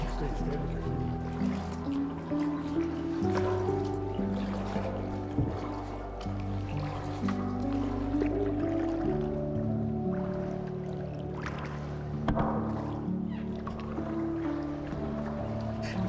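A kayak is paddled across the water of Ha Long Bay, with soft splashes and dribbling water over a low, steady rumble, while voices murmur faintly in the background.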